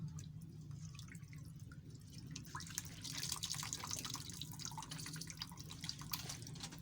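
Water dripping and trickling as soaked dahi bara are squeezed out by hand, with scattered close drips and splashes over a low steady background hum.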